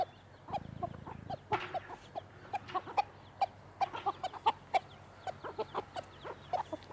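Silkie chicks in an outdoor pen peep and cheep in quick, high chirps, close and fairly soft, with a few soft rustles between them.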